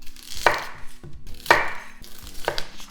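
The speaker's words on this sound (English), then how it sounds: "Then next, let's cut up the onion." A knife chops through an onion on a cutting board, three sharp, evenly spaced cuts about a second apart, close and clear with no talking.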